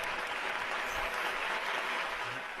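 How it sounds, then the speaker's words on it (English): An audience applauds a Lowrey Royale organ performance with dense, continuous clapping that holds at an even level throughout, and no one speaks over it. "Round of applause for the Royale."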